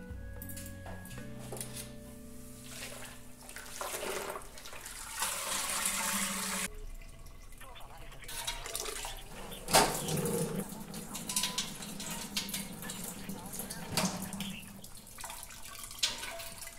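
Beer wort for an American Pale Ale draining from a lifted grain basket after the mash, trickling and splashing steadily back into the kettle, close by, with occasional clatter.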